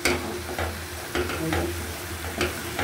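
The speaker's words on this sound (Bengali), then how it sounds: "এখন আমি এটাকে সুন্দর করে নেড়ে নিচ্ছি।" Boal fish curry with yardlong beans is stirred in a pan, the spoon scraping in a few distinct strokes over a low simmering sizzle, close and fairly quiet with no talk.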